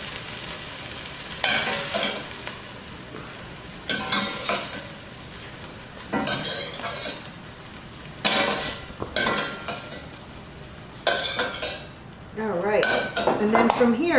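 Cooked chicken is scraped and lifted from a sizzling pan into a bowl, with repeated metal utensil scrapes and clinks in bursts over a soft frying hiss, close and fairly loud, with a brief pause midway.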